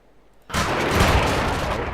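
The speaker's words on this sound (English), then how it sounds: "Sorry about shooting that rocket there." A rocket fired from an armed vehicle in Arma 3 bursts in after a brief quiet, becoming a loud, sustained roaring rush that fills the rest of the moment.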